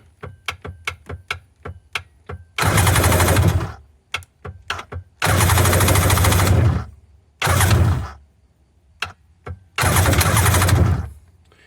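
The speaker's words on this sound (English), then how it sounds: "About every third click hits the starter motor." A Sea-Doo's starter solenoid clicks repeatedly in short, sharp bursts, and every few clicks the starter motor engages with a loud, sustained whirring crank that lasts a second or two before stopping, up close with no talking.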